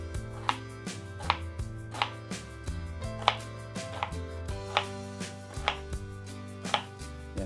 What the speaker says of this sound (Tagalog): Saka hiwain natin ng maliliit.